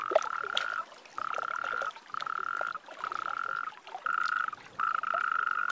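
Toads calling at a winter breeding pond, a series of six long, even trilling calls with short gaps between them, clear and moderately close with no talk.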